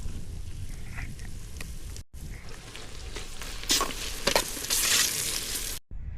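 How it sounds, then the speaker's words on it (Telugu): Ginger garlic paste frying with jackfruit pieces for jackfruit biryani, a steady close sizzle with bursts of louder crackling as the pan is stirred, interrupted twice by short cuts. "మొత్తం అంతా ఫ్రై చేద్దామండి. అల్లం వెల్లుల్లి పేస్ట్"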